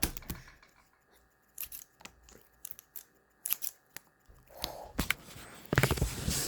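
Scissors snip through homemade slime in a series of crisp, irregular cuts, some sharp and isolated, others in quick bursts, close up and fairly quiet with squishy handling noise between.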